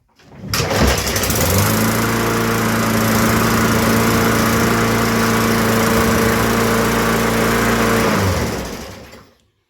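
A Yard Machines walk-behind lawn mower with its self-propel drive engaged starts up and runs at a steady, loud engine drone for about seven seconds before shutting off.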